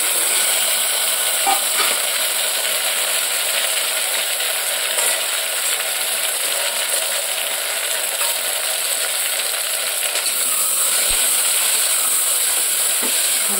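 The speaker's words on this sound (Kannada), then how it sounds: "ಟೊಮೊಟೊ ಈರುಳ್ಳಿ 2 ಒಂದೇ ಸಲ ಹಾಕೊಂಡ್ಬಿಡ್ತೀನಿ." Tomato and onion frying in a home kitchen pan give a continuous, even sizzle, close and fairly loud, with occasional faint stirring clicks and no talking.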